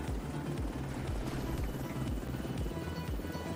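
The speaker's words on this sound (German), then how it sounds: "Heli vor Ort." A helicopter arrives for extraction in the video game The Division 2, its rotor thumping in a steady, fast beat at close range and fairly loud throughout.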